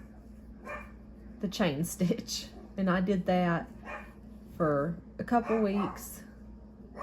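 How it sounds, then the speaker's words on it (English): A dog barks and yips repeatedly in short bursts, fairly close, while a person keeps talking underneath. "I'm so sorry if you can hear my dogs barking."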